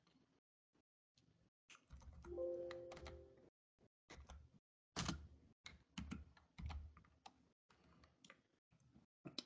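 Typing on a computer keyboard, heard as quiet, close, irregular bursts of clicking keystrokes separated by short pauses.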